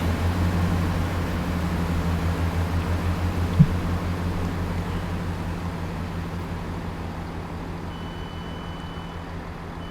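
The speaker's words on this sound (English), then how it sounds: "So here's our train arriving now." A three-car class 166 diesel train arrives at a station on the Great Western Express route in Train Sim World 6, its low engine drone humming steadily and slowly fading, with a single sharp click partway through.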